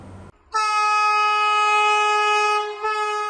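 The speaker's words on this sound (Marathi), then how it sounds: "मुंबई गोवा वंदे भारत सेमी हायस्पीड ट्रेनीची 16 मायासावन ट्रायलूय सुरू जाल्या" A Vande Bharat semi high-speed train on the Mumbai–Goa route sounds a loud, sustained horn blast that holds steady for a few seconds, close by and with no other sound.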